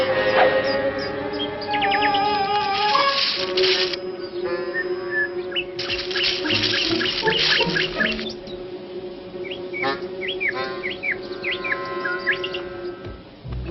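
Cartoon mockingbird song: a long stream of varied warbling chirps, whistles and trills, bright and close, filling the scene from start to finish with no talk.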